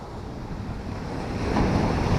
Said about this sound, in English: this water is still bashing against the cliff, and it then goes away, and then you'll get 2 or 3 waves that are up the cliff again